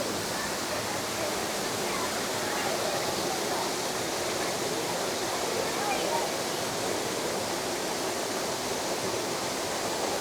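A waterfall in the hills near Maredumilli pours in a dense, steady roar of rushing water that fills the whole scene, loud and unbroken, with no clear voices over it.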